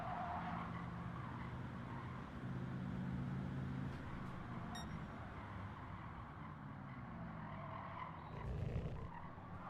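A Porsche GT3 R race car drives at full throttle through Curva Grande in Gran Turismo 7, its engine a continuous droning roar with shifting pitch, steady and fairly quiet throughout.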